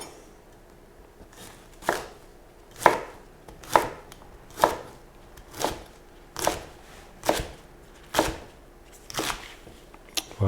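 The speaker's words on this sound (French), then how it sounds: "on va couper nos jeunes ails en petits tronçons de 1 à 2 cm" A knife chops young garlic into short pieces of one to two centimetres, about ten crisp, evenly spaced strikes on a board, close and clear with no voices.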